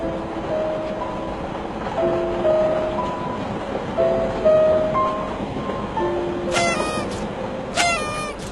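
A moving train rumbles continuously, with faint tonal whines and two brief bursts of high screeching near the end.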